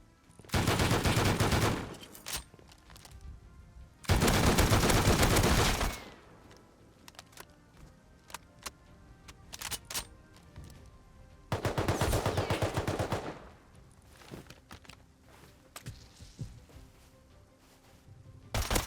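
Gunfire in the survival game Rust: three loud bursts of rapid automatic shots separated by quieter stretches with scattered single pops and faint clicks.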